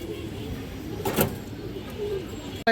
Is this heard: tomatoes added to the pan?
no